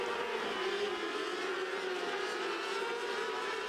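600 class race cars howl around the speedway in a heat race, a steady dense engine drone from several cars at once, fairly distant and continuous with no talk.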